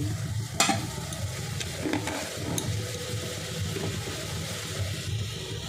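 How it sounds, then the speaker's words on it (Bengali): Water with a little ghee comes to a boil in a pot while chushi pitha is being prepared. The rolling boil gives a steady bubbling hiss with occasional sharp pops and clicks, and no talk. "দেখুন জলটা ফুটে উঠেছে"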